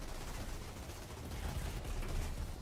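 Rapid, dense gunfire from a shooter game, a continuous rattle of shots throughout, fairly quiet and unbroken.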